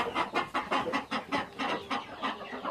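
A flock of farm chickens clucks steadily in late afternoon as the hens trail along hoping for feed, a rhythmic chorus of close, moderately loud clucks with no talking.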